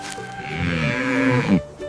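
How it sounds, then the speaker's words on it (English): Farm donkey braying in a children's animal sounds lesson, a single loud, close, drawn-out tonal call that rises and strains before breaking off abruptly, heard alone. "This is a donkey."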